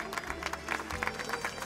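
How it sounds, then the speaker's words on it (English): Applause from a wedding crowd for the bride and her father, a soft, steady patter of many clapping hands at moderate distance, lasting under two seconds with no speech over it. "Let's give them a round of applause."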